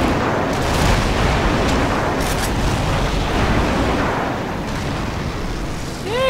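Repeated airstrike explosions in Call of Duty 4 free-for-all multiplayer, a loud continuous barrage of rumbling blasts and booms filling the whole stretch, with a brief rising whistle near the end.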